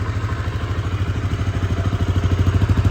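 A 2015 Beta ALP 4.0 350cc four-stroke motorcycle engine with stock exhaust runs steadily close by, its thump pulsing in an even, rapid rhythm with a slight rise in loudness toward the end.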